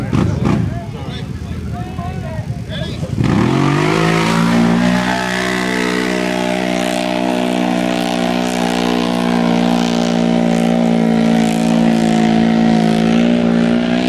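A Can-Am 1000 ATV engine roars at a mud bog race, starting with a loud rising rev and then holding a strong, steady drone with a harmonic whine, close and sustained for over ten seconds.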